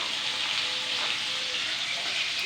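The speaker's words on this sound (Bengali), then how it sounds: "তো চলো এবার কড়াইয়ের মধ্যে দিয়ে দেবো পেঁয়াজগুলি।" Onions frying in oil in a kadai, a steady close hiss and crackle of sizzling that holds evenly throughout with no talk.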